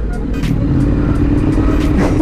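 A Ducati motorcycle engine revs loudly and close, a dense low rumble with repeated short throttle blips riding on top.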